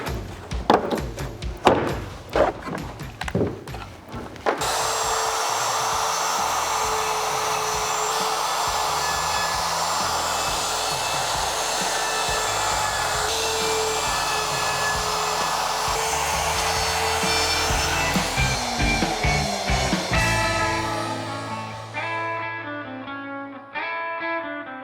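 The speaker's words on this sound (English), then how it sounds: "So I brought my router, and what we're gonna do is we're gonna use a 1/4-inch round over bit and just round over the edges." A handheld router fitted with a 1/4-inch roundover bit rounds over the edges of a collapsible mobile workbench: a few thumps, then a loud, steady motor whine cutting for about sixteen seconds before it spins down and stops.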